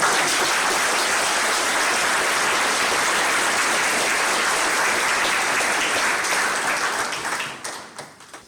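Sustained applause from a crowd at a US Army retirement ceremony at The Citadel, dense steady clapping that holds for about seven seconds before tapering off.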